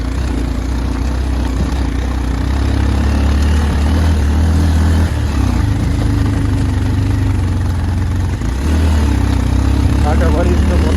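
A motorcycle engine running slowly on a rough off-road mountain track between Bulbule and Jumla Bazar, a loud, steady low idling rumble with slight swells, close to the listener.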